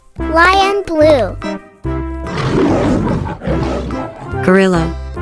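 A cartoon lion gives several loud, close roars in bursts, with a voice talking between them and an animated sound in the middle.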